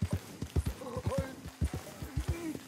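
Horse trotting in Red Dead Redemption 2, steady rhythmic hoofbeats close by, with a voice speaking over part of it.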